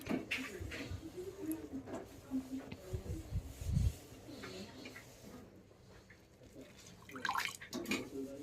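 Starchy foamy rice water spills from a covered pot, faint dripping and spattering with soft hisses that come and go in a quiet kitchen.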